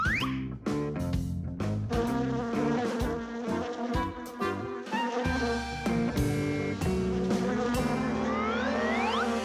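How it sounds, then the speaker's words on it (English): A cartoon bee buzzes continuously over busy music, its wavering whine loud and close throughout. "Here, little bee. Fly this way."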